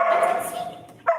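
Dogs bark and yip during dog training at a prison, in short close barks and a whimper, with a voice talking over them.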